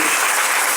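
An audience claps together at a gathering, with dense, loud, steady applause filling the whole moment without a break.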